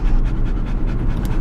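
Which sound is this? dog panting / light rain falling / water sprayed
dog panting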